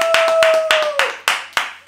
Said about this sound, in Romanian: Să aplaudăm pe smără și pe Ioana